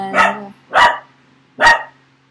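Three loud, sharp barks from a dog close by, evenly spaced over a couple of seconds in an otherwise quiet indoor room.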